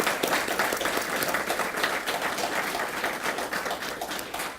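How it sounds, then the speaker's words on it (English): Steady applause from a gathered crowd at a ribbon cutting for a FEMA emergency shelter and senior center, sustained and fairly distant, with no voices over it. "let's give all of them a round of applause for a job well done"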